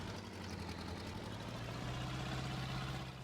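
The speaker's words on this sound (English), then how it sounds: "this tractor is struggling a bit" A tractor engine labors while ploughing a field in a farming simulator game, a steady low drone that grows slightly heavier toward the end, with no talking.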